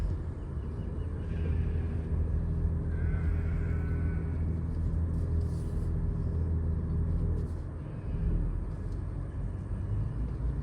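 A truck being driven slowly off-road while a sibling steers, with a steady low engine rumble throughout and a brief dip near the end, no talk heard.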